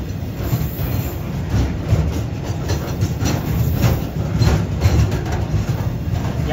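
A freight train hauled by a locomotive rolls through Bua Yai junction in Thailand, a steady rumbling drone with rhythmic wheel clicks and wagon clatter, fairly close and continuous without talk.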